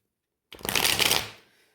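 Tarot cards shuffled by hand for a reading, a single close, dense riffling burst of under a second that swells and then trails off, with no one talking.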